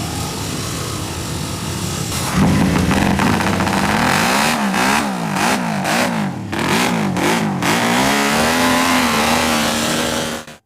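A vintage MV Agusta racing motorcycle engine is started and revved loudly up close, its blaring exhaust rising and falling in repeated sharp throttle blips before cutting off abruptly.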